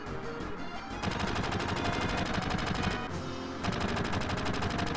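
Sustained rapid machine-gun fire from Barret's gun-arm in a classic role-playing game battle, dense and continuous bursts at close range with brief shifts in intensity.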